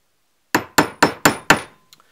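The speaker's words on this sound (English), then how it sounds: "we're just going to go ahead and hammer it home." A hammer drives a pin into a carbine's operating parts with five sharp, evenly spaced metallic strikes in quick succession, close and loud, followed by two faint small taps.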